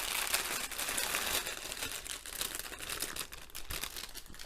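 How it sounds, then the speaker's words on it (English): Loud, close crinkling of the paper wrapping a diamond painting kit's drills, continuous rustling and crackling handled for a few seconds, with nobody speaking. "get rid of the noisy paper, and that's it."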